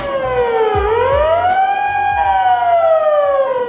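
An ambulance siren wails loudly at a traffic signal in Japan, its pitch rising and falling in a sweeping pattern as the vehicle passes close by, with a low engine rumble underneath.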